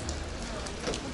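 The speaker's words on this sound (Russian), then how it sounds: "Ой, дождь идет." Rain falling steadily on surfaces outdoors near a railway station and market in Adler, a soft continuous hiss heard close, with no voices.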